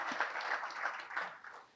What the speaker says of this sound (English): Give a round of applause for yourselves